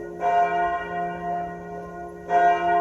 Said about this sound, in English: Some church bells. What is it? Noon. So it rings 12 times.